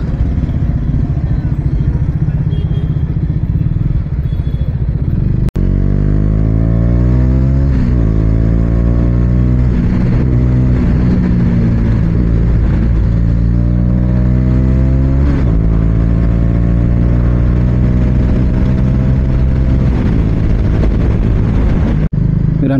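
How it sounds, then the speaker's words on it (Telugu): A KTM motorcycle's engine sounds close and steady through busy road traffic. The engine rises and falls in pitch as the rider accelerates and shifts gears, with a constant rush of wind and street noise underneath. "ఏం ట్రాఫిక్ ఉంది"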